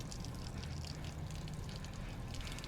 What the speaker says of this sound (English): Bilge pump works.